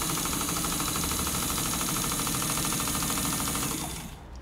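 A 1958 Windsor Singer 15 clone sewing machine runs fast on a short stitch length, a steady close mechanical whir with rhythmic ticking that holds until it winds down at the end.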